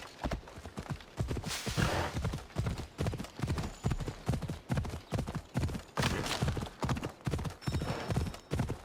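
Horse hooves clip-clop at a steady galloping rhythm while a rider travels through Assassin's Creed Odyssey, loud and close, with no talk over them.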